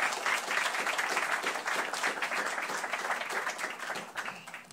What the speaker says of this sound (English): Can we give everyone a round of applause?